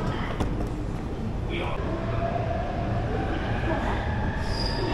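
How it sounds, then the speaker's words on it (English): A Shanghai metro train running, with a steady low rumble and rail noise inside the car and a brief high squeal of wheels, continuous throughout. "I can't believe I'm on the Shanghai metro."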